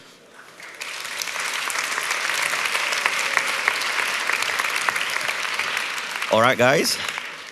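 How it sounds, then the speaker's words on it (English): Sustained round of applause from a crowd at a startup pitch competition finals on the main stage, steady and full for several seconds before a voice speaks briefly near the end. "I'd like you to welcome them with a round of applause,"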